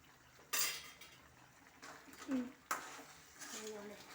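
A spoon stirs crab curry in a pot, producing a few sharp metallic scrapes and clanks at irregular intervals over a quiet simmering background, near and moderately loud.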